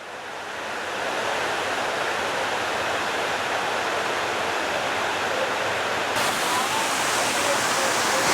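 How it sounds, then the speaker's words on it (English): Juney Whank Falls at Deep Creek pours steadily, a broad continuous rushing roar from a moderate distance that swells slightly near the end. "From here, you get your first glimpse of the waterfall."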